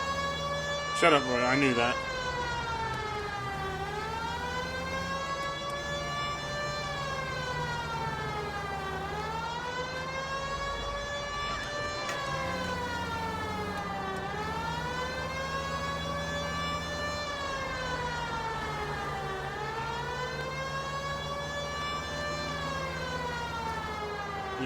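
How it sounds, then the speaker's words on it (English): A police car siren in the video game L.A. Noire wails in slow, steady rising and falling sweeps for a long stretch, with a voice talking briefly near the start. "This seems like a good time for the siren, don't you think?"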